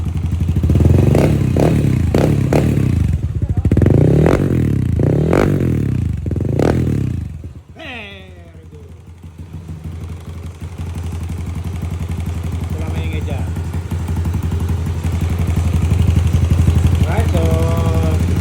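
A 200cc motorcycle with a version 3 exhaust pipe fires up and revs in a run of loud, rising bursts, then drops to a steady idle, with people talking in the background.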